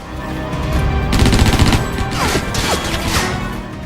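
Dual SMGs firing in the action game Stranglehold, dense rapid bursts of automatic gunfire with crashing impacts, loud and close throughout.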